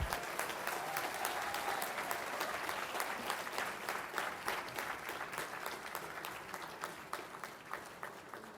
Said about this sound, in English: Let's give a big round of applause to all our PhD graduates.